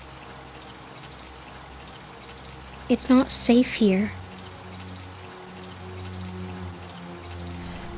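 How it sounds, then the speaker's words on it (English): Steady rain falling outdoors, a soft continuous hiss of drops throughout, with a brief spoken line breaking in around the middle before the rain carries on alone. "What are you doing out here in the rain"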